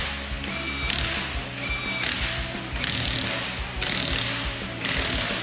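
A Milwaukee impact wrench drives lug nuts on a minivan wheel after a rim leak repair, in about five loud, rattling bursts of roughly a second each, close by with no talking.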